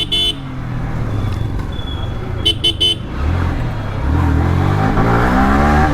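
A motorcycle with a new battery that would not start engine idles roughly, then revs up loud and close to charge the battery, with a few short horn beeps early on.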